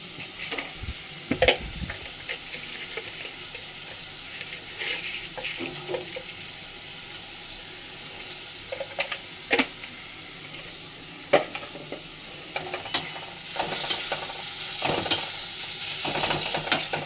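Onions frying in a pan for a prawn curry, with a constant low sizzle broken by scattered clicks and scrapes of a spoon stirring, some sharper knocks against the pan.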